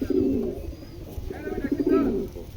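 A pair of big black racer pigeons coo close by in soft, throaty rolling bursts, one after another.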